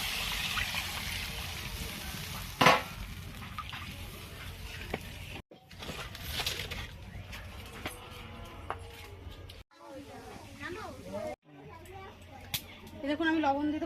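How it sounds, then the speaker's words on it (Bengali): Water is poured into a pan of sizzling fish curry spices, a close trickling splash and hiss amid kitchen clatter, with someone talking over it. "এখন আমি জল দিয়ে দিচ্ছি।"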